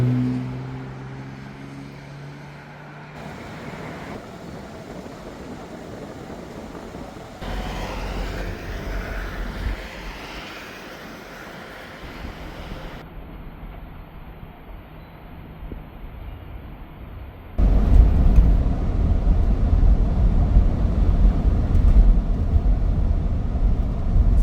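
A 1996 Ford Bronco Eddie Bauer with a 5.8L V8 drives down the road, giving a steady road and engine drone that swells louder and rougher in the last stretch, with no talk.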